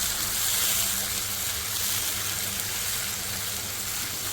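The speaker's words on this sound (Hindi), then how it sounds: "फ्राई इसलिए कर रहे हैं ताकि लहसुन का कच्चापन जो है वो ख़त्म हो जाए।" Garlic paste, kalonji seeds and curry leaves frying in a pan for a garlic yogurt sauce, giving a steady, even hiss of sizzling oil throughout, close and continuous with no talk.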